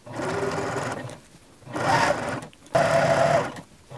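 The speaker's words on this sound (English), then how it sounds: "Now I'm going to take it to the sewing machine and I'm going to stitch down that length at a 1/4 inch seam allowance" A sewing machine stitches a 1/4 inch seam at 2.5 mm stitch length on a zip tote, running in three loud bursts separated by brief pauses.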